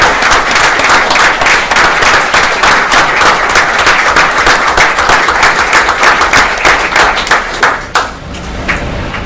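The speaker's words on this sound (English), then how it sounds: "if we can have a round of applause for each and every one" Veterans at a Memorial Day ceremony receive loud, close applause, dense rapid hand claps from a crowd that stays strong for several seconds and then thins into scattered claps before fading.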